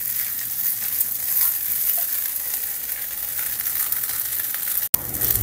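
Chopped garlic frying in hot oil in a pan as the base for rice, giving a steady, close, crackling sizzle throughout with a single sharp tap near the end.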